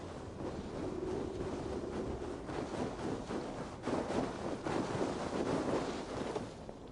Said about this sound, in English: Windy. Storm coming.